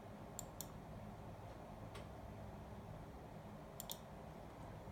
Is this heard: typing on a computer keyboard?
yes